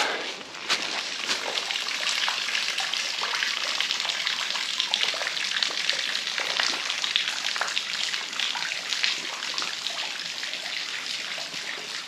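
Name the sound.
waterfall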